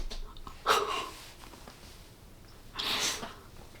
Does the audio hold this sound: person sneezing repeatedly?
yes